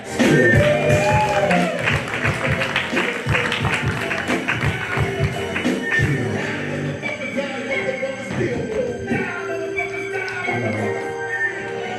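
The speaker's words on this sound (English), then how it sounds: "Please put your hands together for Cade Moore" Audience at a comedy show welcoming comedian Cade Moore, with scattered clapping and crowd noise, along with shouts and voices that continue under it.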